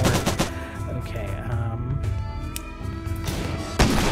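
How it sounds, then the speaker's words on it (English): Rapid bursts of gunfire from a legendary charge sniper rifle in the video game Rimworld, loud repeated cracks over a layer of game music and noise. "legendary charge sniper rifle is doing some work"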